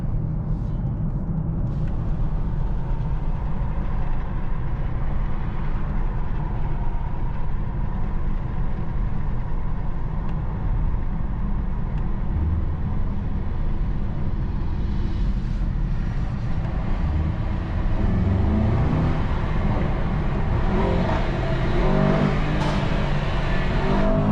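A 2024 Mercedes-AMG S63 sedan with an 800 hp V8 drones loudly and continuously while driving through the gears, the engine note rising and settling with the revs, close and steady throughout.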